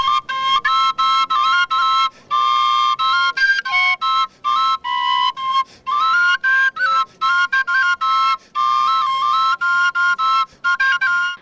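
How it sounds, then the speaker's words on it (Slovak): Slovak folk whistle (píšťalka) played at the EĽRO 2010 festival in Kežmarok, a loud, bright, close melody of quick repeated notes broken by short breaths, played alone without talk. "Známa hra na píšťalke pritiahla nielen mnohých návštevníkov, ale opäť aj našu kameru."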